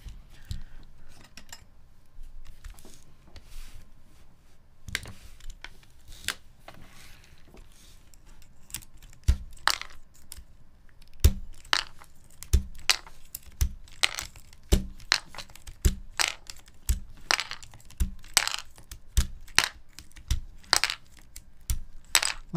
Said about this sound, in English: I guess I could pull out these keycaps right now then